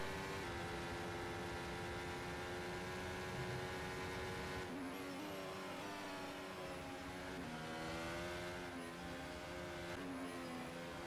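Race cars in a racing simulator game slipstream one another, engines droning at high steady revs with shifting pitch as they pass and gear changes, loud and continuous with no talk.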